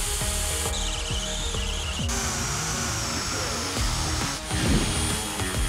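DeWalt DCD791 cordless drill boring through wood with a large bit, a loud close whir that rises and bogs as the bit bites, with repeated grinding chatter and brief pauses.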